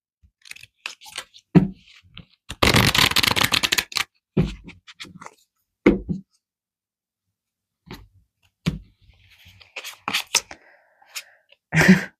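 Tarot cards being shuffled, a long riffling burst followed by several short separate snaps and shuffles spaced out with quiet gaps between, close and crisp.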